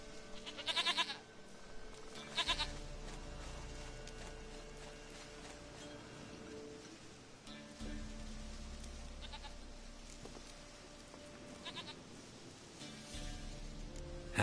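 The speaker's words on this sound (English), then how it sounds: "Goat of mine, dearest, sweetest goat." Goat bleating in The Witcher 3 video game, several loud bleats at irregular intervals over a steady low background hum of game ambience, no talking.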